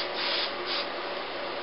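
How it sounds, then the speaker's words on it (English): Rave 4x Mega Hold hairspray hisses onto hair in a close, steady aerosol burst that lasts under two seconds, slightly pulsing, with no voices. "And we're just going to go spray it all over our head."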